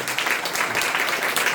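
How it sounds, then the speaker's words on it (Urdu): Sustained applause from a church congregation during a thanksgiving sermon, steady and fairly loud throughout, a dense crowd of clapping hands with no pause. "خدا کی جلال کے لیے، عزت کے لیے تالیاں بجائیں گے"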